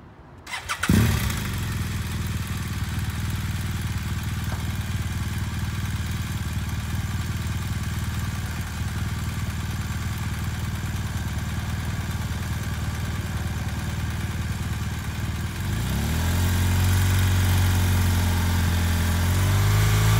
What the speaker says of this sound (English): So listen to the bike and watch my bike position and where I'm looking.